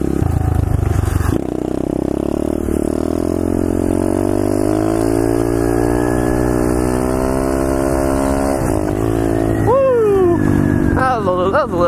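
A small pit bike engine revving hard during a wheelie, its whine holding steady and then climbing and dropping through sharp throttle blips near the end, loud and close.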